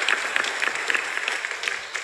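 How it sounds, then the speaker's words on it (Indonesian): Dense, steady audience applause for a row of senior Islamic religious scholars (kiai) at a gathering, a continuous crackle of many hands filling the full two seconds with no break. "Ada, tepuk tangan lagi nggak apa-apa."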